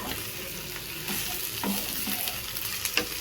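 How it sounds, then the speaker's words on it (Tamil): Potatoes coated in turmeric and salt sizzle in a hot pan, a steady close frying hiss broken by a few stirring knocks and scrapes near the end, with no voices. "இது நல்லா செவுக்க வறுக்கணும்."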